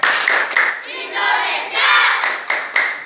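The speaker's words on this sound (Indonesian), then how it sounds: "Kita ulang, satu kali tepuk ASEAN." Schoolchildren perform a rhythmic clapping chant about ASEAN member countries, sharp group claps in a steady pattern alternating with loud shouted chanting, close and energetic.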